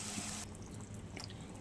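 Water poured into a cooking pot of spiced potatoes with fried masala, a short, quiet, steady splashing stream.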